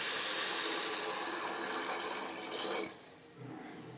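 A glass of water poured into a hot pan of field bean curry over a low flame, a steady gushing pour that stops abruptly, followed by softer bubbling and hiss.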